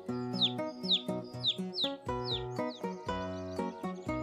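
A hungry little cartoon bird chirps, about eight bright, evenly spaced tweets over a gentle melodic music bed, in a children's educational animation.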